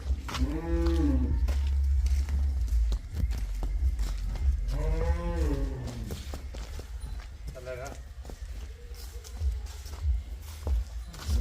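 Buffalo on a farm give several deep, drawn-out moos, one early and one near the middle, with a shorter call later. People talk and there is a low hum and some hoof and footstep noise.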